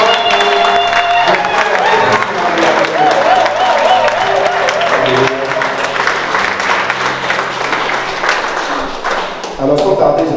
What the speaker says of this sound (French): Est-ce qu'on peut acclamer plus fort pour moi?